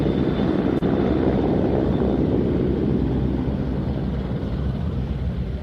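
A Royal Navy Merlin helicopter flies at an air show in Ayr, a loud, dense rotor and engine roar with wind buffeting, steady throughout with no talk.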